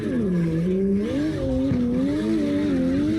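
A car drifts in CarX Drift Racing Online during a street takeover, its tires squealing in a sustained, wavering howl over a loud engine whine that bends up and down in pitch throughout.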